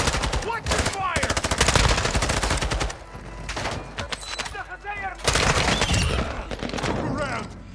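Heavy automatic gunfire in the video game Call of Duty DMZ, dense rapid bursts of shots from several weapons almost continuously, with shouted voices of players breaking through the firefight.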